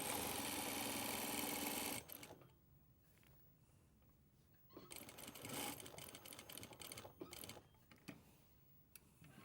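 A sewing machine stitches down a pocket flap, with a fast, loud mechanical whir for two seconds, then shorter bursts of stitching with ticking pauses as it back-tacks.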